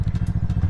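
Yamaha MT-03 motorcycle, a 2023 model, idling close up with a loud, lumpy low engine throb that pulses rapidly and steadily, with faint mechanical clatter on top and no talking.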